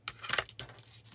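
Paper cut by hand for a handmade paper doily, heard as a few quick, faint snips and rustles close by in a quiet room.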